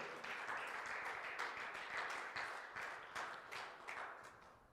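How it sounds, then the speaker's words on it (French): A church congregation applauds during a worship service, dense continuous clapping from many hands with a slightly rhythmic pulse, steady and moderately loud in a reverberant room. "Est-ce que nous pouvons acclamer le Seigneur? Acclame bien le Seigneur bien-aimé."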